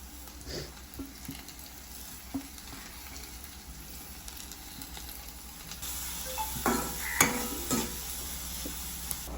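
Fennel seeds and leeks sautéing in a pan for vegetable patties filling, a soft continuous sizzle with occasional spatula scrapes and stirring knocks, growing slightly louder near the end, no talking.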